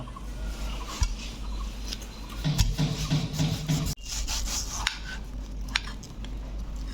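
A knife cuts through a ripe mango in a home kitchen, making close, soft rubbing and scraping strokes. A denser scraping stretch sits in the middle, with a few faint clicks and taps around it.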